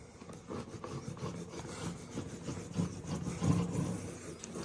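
A seam roller pressed over a wallpaper seam to squeeze out excess paste, giving a soft, continuous rubbing and rasping that comes up close, low in level, and swells slightly toward the end.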